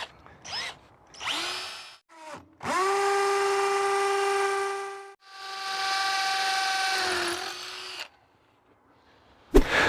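A power drill with a 7mm or 6.5mm masonry bit bores holes into a wall for brown wall plugs while mounting an EV charger; loud whining bursts rise and fall, with two sustained runs and short starts between.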